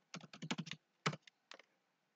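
Quick keystrokes on a computer keyboard in a cyber cafe, a rapid burst of about half a dozen taps followed by two more separate presses, close and fairly quiet in an otherwise silent room.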